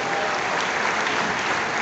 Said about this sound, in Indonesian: Tepuk tangan untuk penghargaan yang sangat luar biasa